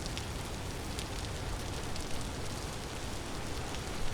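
Steady rain falls in the game Vintage Story, a dense, even hiss of drops with faint crackling that holds at one level throughout, with no voice over it.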